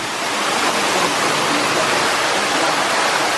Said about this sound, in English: I'm getting a little splash from the water.